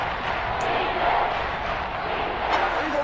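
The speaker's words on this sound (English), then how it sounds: "The crowd getting into it as we come up on a big 3rd down." An American football stadium crowd roars ahead of a big third down late in the fourth quarter, a broad sustained swell of cheering from a distance, under a commentator's voice.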